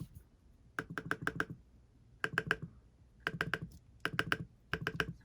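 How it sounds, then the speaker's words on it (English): Someone types on an iPad Pro 11-inch 2022 keyboard: crisp key clicks come in short quick bursts with brief pauses between them, close and fairly quiet. "I can type way quicker with this keyboard than I can on-screen one or dictation"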